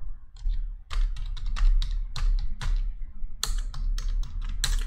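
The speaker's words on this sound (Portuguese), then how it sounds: "Vamos lá, vou apertar aqui para poder digitar, ó." A password goes in on a computer keyboard as a run of quick, close key clicks with short pauses between bursts. No one speaks.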